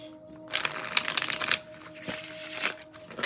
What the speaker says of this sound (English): So they shuffle very nicely.